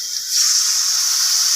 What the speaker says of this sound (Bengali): আনাজগুলো সব ভালো করে ভাজা হয়ে গেছে। জল দিয়ে দেবো,